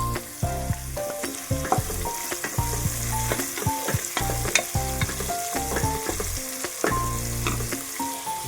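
Chopped onions for mutton keema fry in hot oil in a pan, a steady close sizzle broken by frequent scraping and clinking stirs of a spoon against the metal, with no talking.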